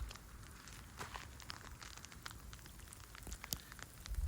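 Steady outdoor rain in Las Vegas patters on surfaces, a soft continuous hiss broken by scattered louder drips, with no voices.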